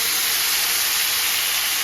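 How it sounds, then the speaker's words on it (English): Steak drippings hit a hot pan of sautéed potatoes and set off a loud, steady, broadband sizzle and hiss that holds evenly the whole time, close up and with no talking. "add the drippings from our steak, just as a bit more beef flavor"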